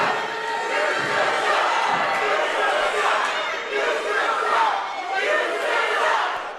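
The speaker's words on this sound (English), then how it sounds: "The crowd not showing Haas a lot of love here as the count is on." A large crowd at a wrestling event roars and boos in a sustained, loud wash of voices that swells and dips slightly, with no single voice standing out.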